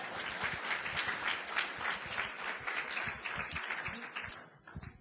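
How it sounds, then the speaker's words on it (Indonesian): Applause from a church congregation, dense and steady clapping spread across the room at moderate volume, tapering off near the end. "Tepuk tangan dong."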